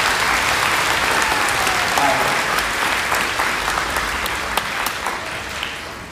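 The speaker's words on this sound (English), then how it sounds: "Clap for your teacher." Middle school students in an auditorium clap for their teacher, a loud, dense wash of applause from a large crowd that stays constant and only eases slightly at the end.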